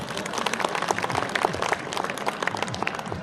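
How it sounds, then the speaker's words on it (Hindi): Clapping from the audience at a kavi sammelan poetry gathering at the Bulandshahr festival, brisk and fairly quiet, with individual claps standing out over a lively crowd and a few low voices beneath. "एक बार जोरदार तालियां बजाएं"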